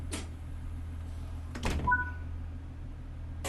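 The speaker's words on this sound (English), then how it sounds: "it shouldn't be shutting a door on a red signal" Train doors closing in the Train Sim World 6 simulator on the Coryton to Radyr route: a short thump, then a louder double clunk with a brief two-tone electronic beep, over a steady low engine hum.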